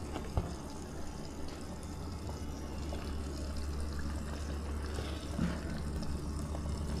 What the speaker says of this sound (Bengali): জলটা আর একটু দিয়ে দিচ্ছি,